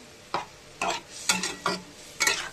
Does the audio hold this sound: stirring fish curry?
yes